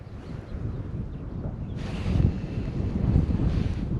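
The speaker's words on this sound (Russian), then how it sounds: "вот сейчас вот сдувает хороший ветерок." Steady wind rushing over the microphone on a riverbank while shore fishing for zander, a continuous low roar with gusts swelling louder partway through.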